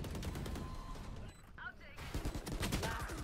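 Gunfire in Valorant, a burst of loud shots followed by a short pause and another rapid volley, quite close, with game noise around it.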